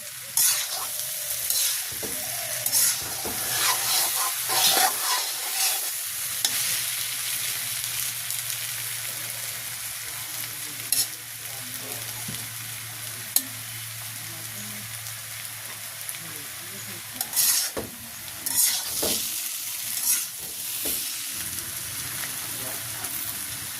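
Taro stems coated in ground nut paste fry in a pan, with a steady close sizzle running throughout and irregular stirring scrapes and clatters layered on top. No one speaks.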